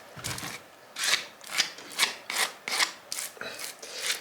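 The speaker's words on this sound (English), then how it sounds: "Let's just scrape it with the knife," A knife scrapes wax and thickened honey from a backyard honeycomb frame during honey extraction, making a steady series of about eight rasping strokes, close and fairly loud, with short pauses between them.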